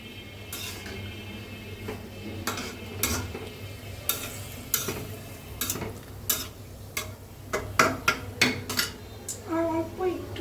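Chinese-style mixed vegetables stirred in a pan, a spatula scraping and clattering against the metal in irregular knocks over a low sizzle, with faint voices in the background.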